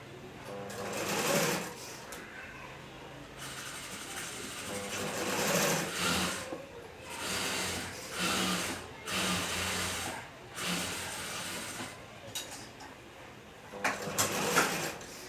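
A sewing machine stitches a baby bonnet (kunchigi) in several close, rapid whirring runs separated by short pauses, with a faint voice in the background.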